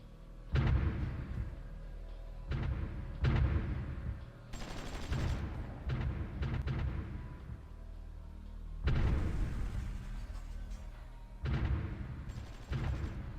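Artillery and gunfire in the strategy game Supreme Ruler Ultimate during the Battle of Barcelona, a string of heavy booming bursts and rattling volleys that come in clusters with short pauses, fairly loud and with no talk over them.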